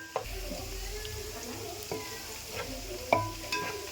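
Garlic and ginger fry in a pan with a steady sizzle, broken by several sharp scrapes and clinks of a utensil stirring against the pan, heard close up.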